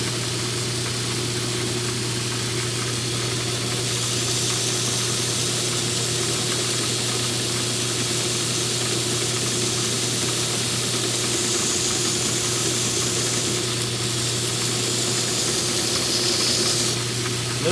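A grinder runs with a steady, unbroken hiss and hum while grinding a knife blade's edge bevel up toward the spine, holding close and constant throughout with no pauses.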